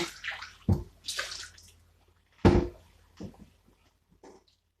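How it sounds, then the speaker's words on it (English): Hot water running into an oven dish to soak it, arriving in uneven splashing bursts and gushes with pauses between, close by. "I need to soak it with hot water"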